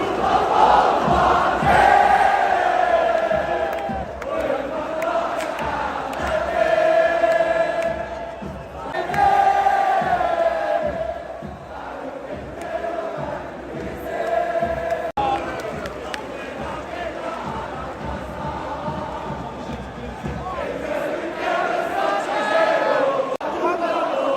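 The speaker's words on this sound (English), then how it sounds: "a PK to make Wydad go up 2-0 sent the crowd into a frenzy" A football stadium crowd at a Wydad match roars in a frenzy after a penalty kick puts the home side 2-0 up, a dense, sustained wall of chanting and shouting that swells and dips throughout.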